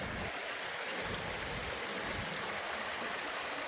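Water rushing over a check dam after heavy rain, a loud, continuous broadband roar and splash, close and unbroken with no talk.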